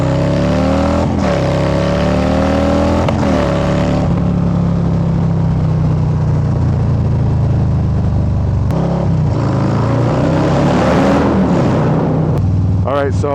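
A motorcycle engine revs and accelerates on an open road during a long highway trip, loud and close, its pitch climbing and falling through several throttle pulls over a steady rush of wind.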